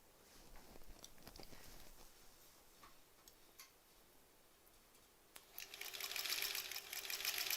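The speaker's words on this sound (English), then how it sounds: "So let's first sew this to this." A sewing machine stitches fabric scraps together with soft, quick ticking runs, faint at first and then louder, steadier whirring stitching toward the end.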